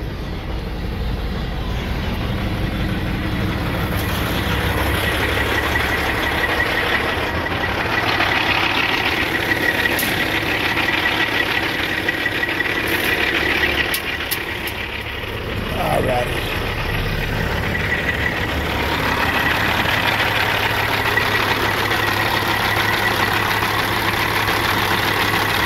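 A 2006 Peterbilt 379 truck engine idles with its engine bay open, a steady, loud, continuous rumble that holds evenly throughout.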